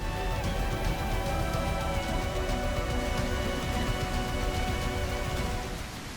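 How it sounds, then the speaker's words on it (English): Steady rain pours at night onto dense bushes, a continuous loud hiss of drops hitting leaves that holds evenly throughout, easing off only slightly at the very end. "it's raining, it's dark, there's loads of bushes and visibility is low."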